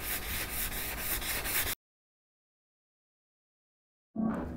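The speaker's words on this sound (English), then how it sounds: "take a sanding block and sand it to a nice smooth finish" A sanding block rubs back and forth along a routed 45-degree wood edge in steady, rhythmic, close strokes, then falls silent before a brief resumption.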